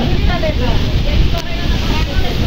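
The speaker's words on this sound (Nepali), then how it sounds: "कस्तो मस्त हावा चल्दैछ क्या" Wind blowing beside water under a peepal tree, a loud, steady rumbling buffet across the microphone throughout, with no break.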